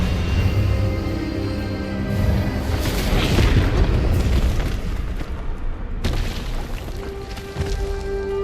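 A loud magical blast from the Expelliarmus spell in the video game Hogwarts Legacy, a sustained booming burst over dense rumbling game sound, with a sharp cut and a second surge near the end.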